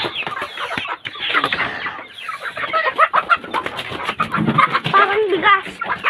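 Many chickens cluck and a rooster calls nearby, with busy overlapping fowl noise throughout while people talk over it.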